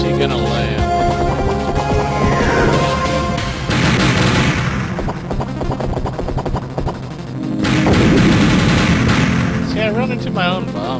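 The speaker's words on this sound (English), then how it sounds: "Another bomb." Repeated bomb blasts from the Nintendo 64 game Bomberman 64 crackle and boom in bursts over game music, with a heavy round of explosions near the end; someone talks throughout.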